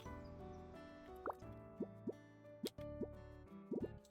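Plants watered in the video game Starsand Island: a handful of short, bubbly water plops and drips at irregular intervals over a soft, steady background tone.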